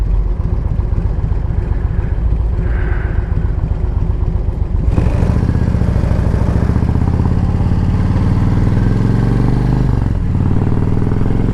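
A rare, hard-to-service motorcycle runs loud and close, its engine note rising sharply midway as the rider accelerates and then holding a strong, steady drone.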